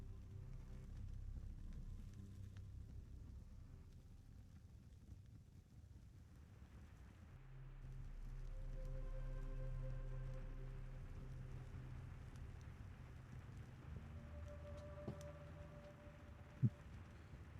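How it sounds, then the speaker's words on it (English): Rain falling on a roof, a soft steady wash of patter over a low rumble that swells partway through, with a sharp knock near the end and no talking. "hear the rain start to fall on the roof."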